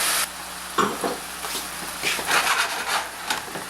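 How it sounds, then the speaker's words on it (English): Wine poured into a hot pan with browned fond while wine-braised riblets cook, giving a broad close sizzle with scraping and stirring clatter throughout. "Now that's nice and hot, nice fond, we're going to add, say about a quarter cup of wine"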